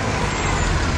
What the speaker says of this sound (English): Oh, trucks.